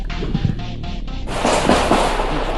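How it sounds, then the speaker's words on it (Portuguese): A rapid police gunfire exchange, with sharp bursts of shots cracking through a constant rumbling, noisy background, growing denser and louder partway through. "Troca de tiros neste momento. Disparos de arma de fogo."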